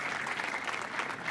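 Guests at a wedding ceremony applaud in a brief, continuous wash of clapping, even and moderately close with no voices over it.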